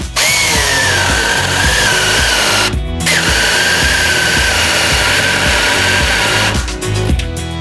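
A SEQUOIA SBC2004M-QV cordless mini chainsaw cuts through wood with a loud, steady high-pitched whine, briefly dropping out near three seconds before resuming and roughening toward the end as the cut finishes.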